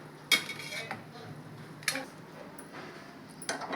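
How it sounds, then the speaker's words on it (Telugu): A pot set on a stove and the burner lit while cooking munagaku pappu, a drumstick-leaf lentil dish, giving a few sharp metallic clanks and clicks separated by quiet pauses. "నేను స్టవ్ మీద పెట్టి స్టవ్ వెలిగిస్తాను."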